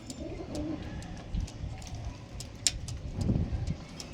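Pigeons, a female and then a male, just let go, coo in low, repeated murmurs at close range, with a few sharper chirps and wing-like bursts over a steady background.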